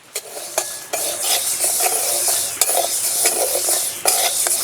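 Dal dry-roasted in an oil-free pan for egg khichuri, stirred with a spatula. It gives a dry rustling hiss and repeated sharp scrapes and knocks against the metal, loud and close.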